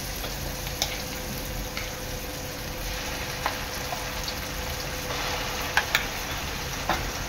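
Masala paste sizzles steadily in a pan with onions that have browned, making a constant close frying hiss with a few faint clicks and no talk, while veg Kolhapuri is being cooked.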